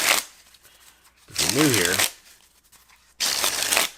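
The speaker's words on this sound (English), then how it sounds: "So if you're ever doing table shuffles, little pro tip, I'd do this if you're a regular." A table shuffle of vintage NASCAR collectible playing cards brings a loud riffling burst near the middle, with a second riffle at the end, while a person talks over the start.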